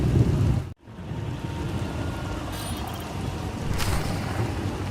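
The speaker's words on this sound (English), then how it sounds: "Hard to track them through the storm" Steady rainstorm in the Star Wars: The Old Republic game, a continuous dense wash of rain with a brief dropout and faint distant rumbles, no voices.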